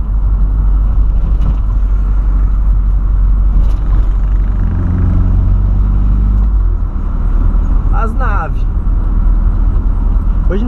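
A Volkswagen Voyage drives along an avenue at night, its engine a loud, steady low rumble with a brief shift in pitch midway, while people talk inside the car.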